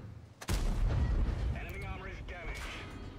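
Tank cannon shot in World of Tanks, the heavy Tortoise tank destroyer in battle: a single sharp, booming blast followed by a rumbling decay, with game sound effects trailing behind it.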